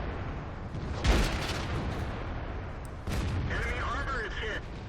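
A tank cannon shot striking an enemy tank in World of Tanks, a T32 on the Cliff map, lands as one loud boom with a short echoing tail, followed by a second impact and a steady rumble of battle noise.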